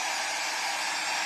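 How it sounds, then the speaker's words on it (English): A hair dryer blows hot air onto stamping tape for crafting, giving a steady, loud, unbroken whoosh of airflow with no talking. "you can use your hair dryer, or you can use a heat gun to heat up the tape"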